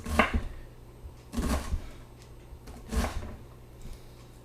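A knife chops straight down through an onion half on a board, three distinct thuds spaced over a few seconds, close and quiet, with no talking.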